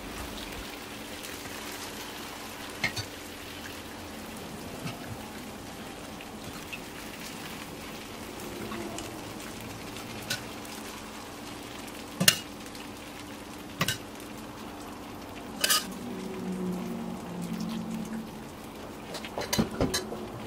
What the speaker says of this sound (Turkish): Ilık olan şerbeti üzerine gezdirerek döküyorum.